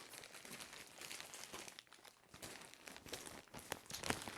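Plastic or packing material of a dog car seat package crinkles and tears as the heavily taped box is pulled open, a busy run of rustling and ripping that grows louder toward the end, with no talking.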